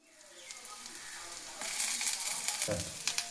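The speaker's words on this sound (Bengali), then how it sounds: "গরম হয়ে গেছে, পেঁয়াজ কুচি দিয়ে দিলাম।" Chopped onions are dropped into hot oil for a spicy fish curry, and after a quiet start a loud, hissing sizzle bursts up and keeps crackling close by.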